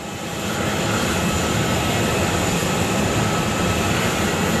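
Jet aircraft on the apron at Frankfurt airport, heard as a loud, steady engine roar that swells in over the first half-second and then holds constant without a break.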